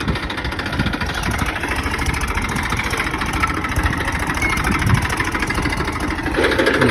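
A tractor engine runs steadily at a low, idling rumble on its way to the farm fields. The chugging drone is close and continuous, with no talk over it.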